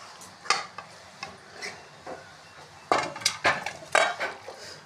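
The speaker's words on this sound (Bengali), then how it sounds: "এবার আমি গ্যাসটা অফ করে দিচ্ছি, দিয়ে এটা নামিয়ে দিচ্ছি।" Metal cookware clatters and scrapes as a pot of cooked jackfruit is lifted off a gas stove, a series of sharp clanks and knocks with a louder cluster of bangs toward the end, no talk.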